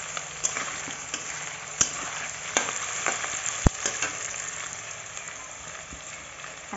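Potatoes and garlic sizzle steadily in a pan, with a bright continuous frying hiss broken by occasional clinks and scrapes of stirring, close and fairly loud, no talk.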